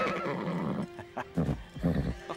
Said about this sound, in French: j'aurais besoin d'un cheval comme Storm pour m'aider.